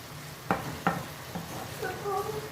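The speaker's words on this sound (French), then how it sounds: "On va ajouter notre tomate. Hop là. Et on va laisser cuire également." Tomato cooking in a pan for a meat and vegetable lasagne, a soft low sizzle with a couple of sharp utensil knocks near the start, faint and close.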